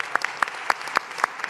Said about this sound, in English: God Squad. Let's give them a round of applause.